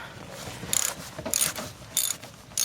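Ratchet clicks from a wrench loosening the upper strut nuts on a Chevrolet TrailBlazer during strut and coil replacement, heard as several short close bursts of rapid clicking separated by pauses.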